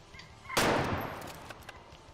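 A single loud gunshot in the hunting game Way of the Hunter: a sharp broadband crack followed by a decaying rumble and faint echoes over quiet ambience.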